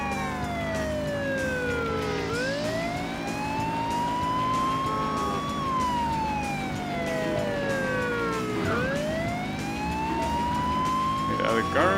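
A police car siren in the racing video game Burnout 2: Point of Impact wails in long rising and falling sweeps over a steady engine roar, loud and continuous throughout.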